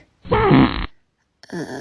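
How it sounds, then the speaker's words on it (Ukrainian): A loud, close fart rumbles for about half a second, then after a short silence a second shorter one follows. "Ви перднули на інтерв'ю?"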